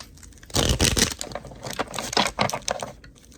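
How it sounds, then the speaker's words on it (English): Oracle cards shuffled by hand during a Sagittarius tarot reading: a dense run of crisp riffling and flicking card sounds, close and fairly loud, tapering into lighter irregular taps and slides, with no talking. "I'm going to get a couple of more oracle cards for you, Sagittarius. I just want to get a good shuffle."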